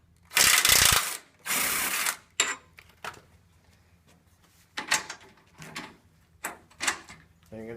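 A ratchet loosening the two bolts that hold the headrest of a chaise lounge, heard as close bursts of rapid clicking pawl ratcheting separated by pauses and small metallic clanks.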